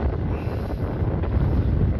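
Strong wind roars across the microphone on a boat at sea, a constant loud buffeting rush with no talking.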